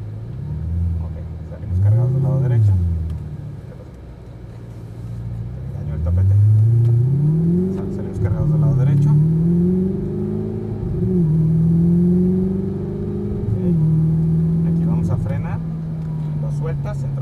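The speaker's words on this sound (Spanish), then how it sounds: "comenzamos a acelerar" Exotic sports car on a race track accelerates repeatedly, its engine rising and falling through several revving pulls with a deep rumble close by, while someone talks over it.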